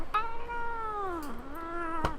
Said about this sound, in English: And my cat is not happy right now.